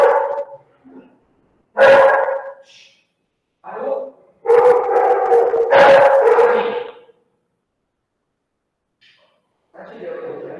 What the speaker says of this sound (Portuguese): Deixa eu ver se eu consigo fazer eles parar de latir.